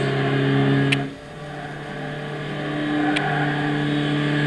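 Weak 12 hp two-cylinder engine of a 1954 Citroën 2CV 0.4 in Gran Turismo 6, droning at a steady pitch that dips briefly, then settles and slowly climbs again while straining uphill.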